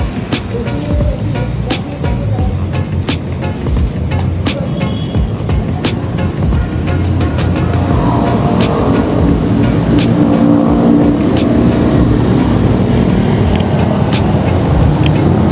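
Busy road traffic with cars passing by, a steady loud wash of engine and tyre noise with repeated sharp transient clicks throughout, no voices.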